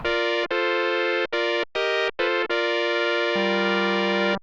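A bright, buzzy synthesizer tone played as a series of short choppy notes, then one long held note that drops lower near the end.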